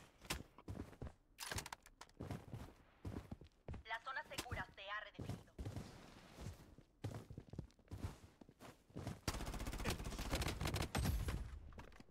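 Gunfire in the Blood Strike shooter game cracks in short, sharp bursts. Several volleys and single shots are scattered across the clip, some near and loud, others fainter, with a denser spell of firing toward the end.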